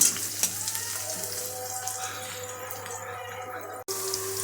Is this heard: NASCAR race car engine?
no